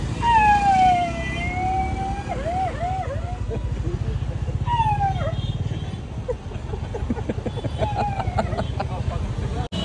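A man imitates a police siren with his mouth in a rising and falling wail, repeated a few times over the rumble of a moving vehicle, while other voices talk and laugh around him.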